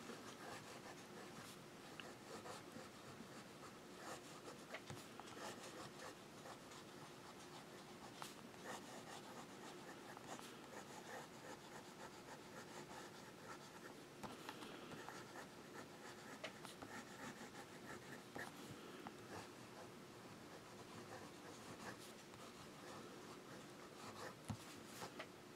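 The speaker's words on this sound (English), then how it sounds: "And we'll do some writing." Conklin All American Raven Black fountain pen with a wet nib scratches and glides across paper in a long, quiet stretch of soft rubbing strokes and swirls, close and faint with no talking.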